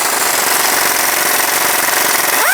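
Removing a strut nut with a 19mm socket on a power tool, on the front shock absorber of a 2000-2006 Toyota Tundra: a loud, continuous rattling hammer that runs steadily throughout, then ends in a brief rising whine.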